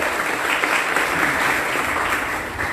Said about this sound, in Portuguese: Uma salva de palmas para a Yara também.